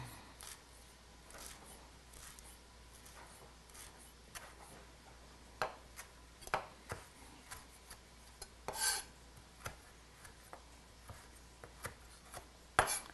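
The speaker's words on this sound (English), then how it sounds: "Give them a nice chop." Fresh herb leaves chopped with a knife on a cutting board, a scattered series of crisp taps and thuds, some in quick pairs, close and fairly quiet against a faint kitchen hum, with no voices.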